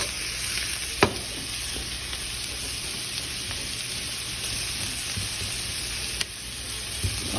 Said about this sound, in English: you'll see a lot of onions and garlic cooking with me